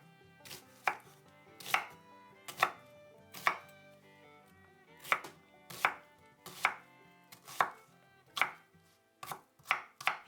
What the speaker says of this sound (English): Mince 1 onion,